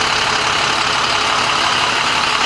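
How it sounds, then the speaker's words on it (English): A diesel service truck engine idles steadily and loudly, a continuous low, even rumble with no speech over it. "My service truck seems a little noisy."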